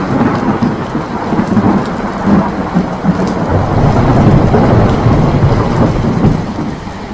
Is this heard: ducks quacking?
no